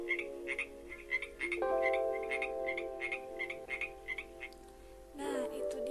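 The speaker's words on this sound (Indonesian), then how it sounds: "Seperti ini suara katak." Frogs croak steadily in repeated rhythmic pulses over a low sustained tone, fairly close and clear, with no talking.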